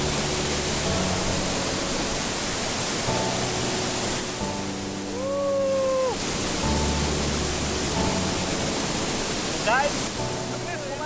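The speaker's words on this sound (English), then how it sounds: "You can hear the sound of the river." River rushing near a waterfall, a dense steady roar of flowing water throughout, with people talking over it close by.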